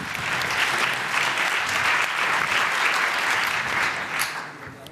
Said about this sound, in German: Einen herzlichen Applaus